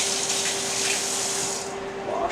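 Kitchen tap water runs steadily with a constant hiss and gush for a couple of seconds while utensils are washed, then eases slightly toward the end. No one speaks.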